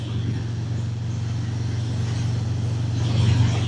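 A Harley-Davidson Breakout 117 motorcycle engine hums in a steady low drone while riding, with constant wind rush and a slight swell near the end.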